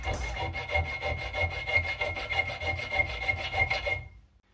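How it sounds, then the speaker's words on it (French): A parallel groove file rasps steadily across a scramasax knife, a dense run of rhythmic scraping strokes at close range that continues for about four seconds and then stops abruptly. "C'est une lime à rainure parallèle."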